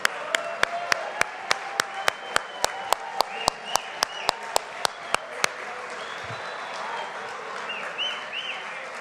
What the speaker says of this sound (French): Applaudissons bien fort ces ambassadeurs de la profession